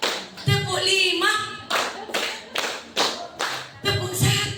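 A group of women claps together in a counted rhythm: sharp bursts of hand claps come in short, uneven groups, and a voice talks over and between them.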